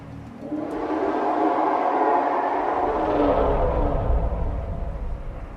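Reaper Leviathan roar from the Subnautica video game: one long, swelling, rumbling growl that builds and then fades, heard alone.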